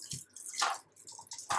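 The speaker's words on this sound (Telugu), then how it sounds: "ఇట్లా జాలి గిన్నెలు వేసి కడుక్కోండి" Mint leaves rinsed in water in a strainer bowl, soft splashes and drips in short bursts, close and fairly quiet, with no speech.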